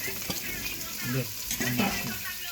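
Onion and tomato frying in a pan as the vegetables are tipped in and stirred, giving a steady sizzle and soft scraping with voices talking in the background.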